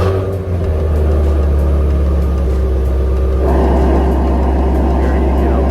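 A Shelby GT350 with its 5.2L Voodoo V8 starting and settling into a loud, deep, steady idle close by, the rumble shifting slightly partway through.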